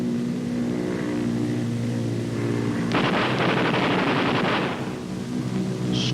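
Aircraft gunners fire bursts at a towed practice target, a dense rattle of gunfire breaking out midway over the steady drone of bomber engines and lasting a couple of seconds before fading back to engine hum.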